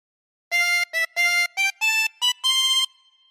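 A tremolo harmonica plays a short phrase of Pop Goes the Weasel in seven clean, separate notes, some short and some held, close and alone, with a brief ringing fade at the end.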